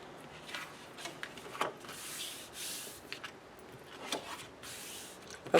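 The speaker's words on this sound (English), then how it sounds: "Give it a good burnish." A paper fold being burnished for a handmade double envelope, heard as soft intermittent rubbing and scraping strokes, fairly quiet and close, with no talking.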